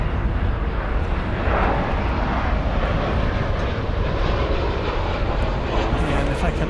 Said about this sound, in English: we can get a gander at the One World 737 livery of American Airlines.